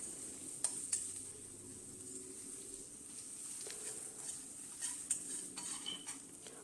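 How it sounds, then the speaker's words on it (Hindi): Quiet sizzling of garlic in a pan with occasional clinks and scrapes of a utensil stirring, soft and close, with no talking. "यहाँ पे लहसुन को मुझे ज़्यादा ब्राउन नहीं करना, इसको मैं अच्छे से चलाऊंगी"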